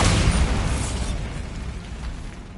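A Bombarda blasting spell detonates in Hogwarts Legacy: one loud, close explosive burst whose rumbling roar fades slowly over a couple of seconds.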